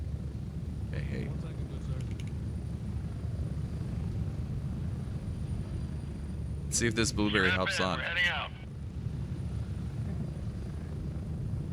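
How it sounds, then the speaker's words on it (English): A helicopter drones steadily throughout a video game, its low rotor rumble holding constant beneath a voice that speaks briefly in the middle. "The helicopter's too damn loud."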